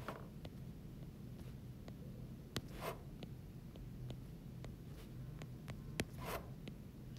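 Pen or marker writing down binomial coefficients, a run of quiet scratchy strokes and taps in a soft, steady rhythm against faint room hiss, with no voices.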